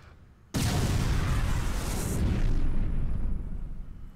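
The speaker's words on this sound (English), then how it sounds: "You're gonna send in the big... A power bomb." A power bomb detonates in Metroid Other M, a sudden loud blast that swells into a long roaring rumble lasting several seconds before fading.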